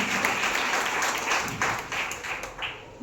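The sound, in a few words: congregation clapping loudly to praise the Lord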